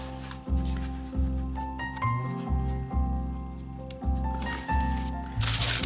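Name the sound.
handling a sheet of wax paper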